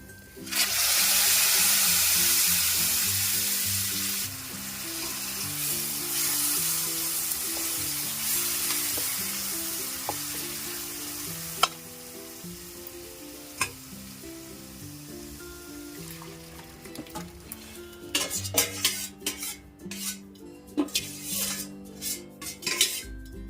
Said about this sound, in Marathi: आता आपण यात ते वरण घालून घेऊया